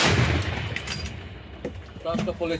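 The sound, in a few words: howitzer artillery firing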